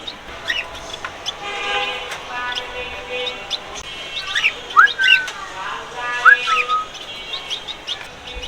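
Pet birds on a small home balcony chirping and whistling in short bright bursts, several calls clustered toward the middle and end, fairly close over a quiet background.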